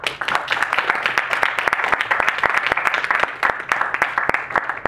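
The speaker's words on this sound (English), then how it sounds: "let's give Carlos another round of applause" A room audience applauds Carlos after a student talk, with dense, steady clapping from many hands, close and loud, running unbroken for several seconds.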